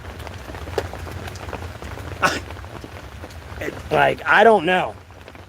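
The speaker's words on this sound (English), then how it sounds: "I'm assuming it's raining too, by the way. A lot of this could be just water falling off the trees." Outdoors in Alamance County, rain and water dripping from trees patter in a steady, dense hiss with scattered louder drops. A person talks briefly near the end.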